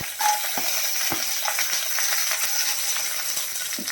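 Dried red chillies and peanuts fry in hot coconut oil in a pan, giving a steady close sizzle with scattered small pops and crackles throughout, no one talking.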